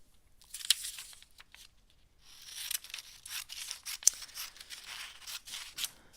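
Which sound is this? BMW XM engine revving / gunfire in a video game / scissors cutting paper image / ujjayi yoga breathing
scissors cutting paper image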